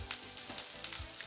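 Green and red peppers sizzle in a torch-heated pan while cooking canned tomato sauce, a steady close frying hiss with a few louder crackles and low pops, no voices.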